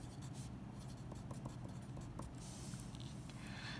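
Pen or pencil scratches across a paper handout while writing annotations, soft quick strokes in short bursts, faint and close with no talking.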